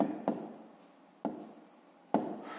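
A pen writes down a maths answer on paper, three short sharp strokes, each a distinct tap-and-scratch followed by a fading rub, close and fairly quiet.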